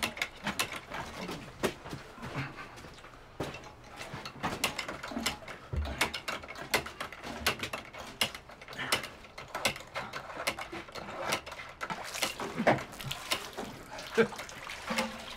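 Hand water pump worked in a rural comedy scene, steady repeated metallic clanks and squeaks of the handle with occasional water splashes, fairly close, with voices mixed in.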